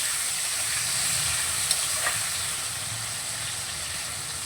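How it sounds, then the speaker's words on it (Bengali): Salted, turmeric-coated shrimp fry in oil in a wok-style pan, a steady broad sizzle and hiss running throughout with a couple of faint clinks, close and moderately loud. "চিংড়ি মাছগুলোকে ভালো করে ভেজে নেব।"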